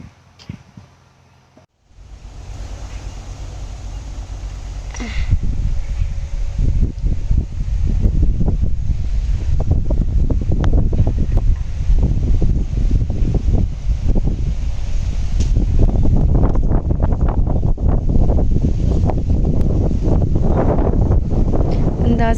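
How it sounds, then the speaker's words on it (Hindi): Strong afternoon wind blowing outdoors, buffeting the microphone with a loud, steady roar that builds after a brief quiet start and keeps gusting. "देखो कितनी अच्छी हवा चल रही है"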